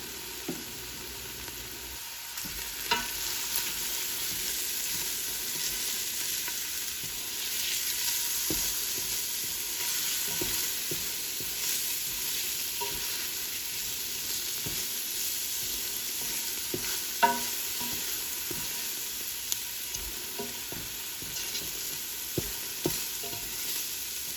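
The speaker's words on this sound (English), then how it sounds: "Give everything a good stir." Marinara sauce ingredients being stirred in a hot pan, a continuous close sizzle with scattered scrapes and clinks of the spoon, no talking.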